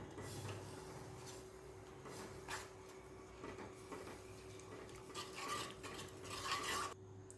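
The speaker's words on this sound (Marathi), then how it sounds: "आता हे व्यवस्थित मिक्स करून घ्यायचं आहे" Milk is stirred into jaggery rice kheer in a pot: faint, steady scraping and rubbing of a spoon against the pot over a constant low hum, with no voices.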